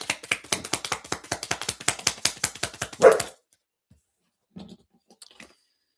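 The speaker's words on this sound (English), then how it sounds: "Let me let my dogs out." Dogs bark rapidly indoors, a fast regular string of close barks that lasts about three seconds and stops, followed by near silence with a couple of faint knocks.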